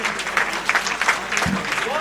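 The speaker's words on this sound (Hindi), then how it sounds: "बड़ी तालियों के साथ" Crowd applause at a public address by Rajasthan Chief Minister Bhajanlal Sharma marking the Yamuna water project agreement, a dense steady clatter of many hands lasting throughout, with some voices mixed in.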